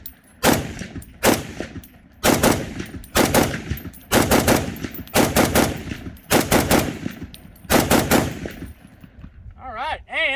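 An FN SCAR 17 NRCH rifle with a scope fires a magazine of .308 rounds at an outdoor range, loud sharp shots in paced groups of singles and quick doubles, with ringing echoes and a metallic clatter at the end.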